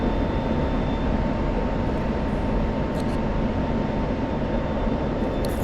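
Steady, dense F-16 jet engine roar in a Middle East air-combat video game as the fighter climbs for altitude, loud and unbroken with no voices.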